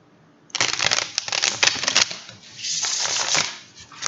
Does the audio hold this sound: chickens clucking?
no